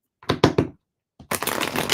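Tarot cards are handled and shuffled close up. Three quick snapping riffles come first, then a brief pause, a small tap, and a sustained crisp fluttering shuffle.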